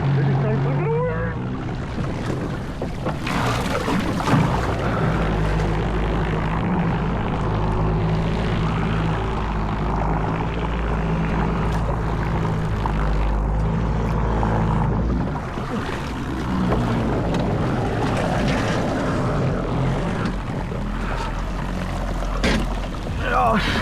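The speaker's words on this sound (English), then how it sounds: "Let me try to shut the damn motor off." A small boat motor drones steadily and loudly on a Texas lake, a continuous close engine hum with brief voices mixed in.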